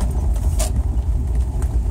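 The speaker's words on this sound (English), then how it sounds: "Go slow, it's gravel" A car rolls slowly along a potholed gravel access road leading to a race track at Oscoda, its steady low rumble continuous and close, with a brief brighter crunch partway through.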